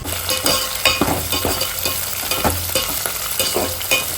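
Drumstick dal ingredients with curry leaves sizzle and fry in a pan while being stirred, a steady crackle broken by repeated spoon scrapes and knocks, close and fairly loud with no talking.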